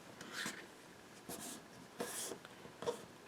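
Adhesive tape backing is peeled off a piece of chipboard while assembling a papercraft mini album, giving a few faint, brief rasping strips of sound separated by quiet gaps.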